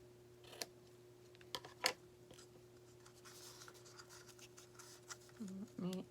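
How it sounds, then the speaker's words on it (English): Paper snips cut Purple Posy ribbon, a few sharp close clicks and snips among soft rustling and handling noises over a faint steady hum, with a voice speaking briefly near the end. "I'm going to take some of this Purple Posy ribbon and using my paper snips"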